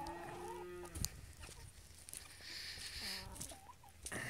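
Calves on a cattle farm moo in two fairly faint, drawn-out calls, one at the start and another a few seconds later, over a quiet outdoor background.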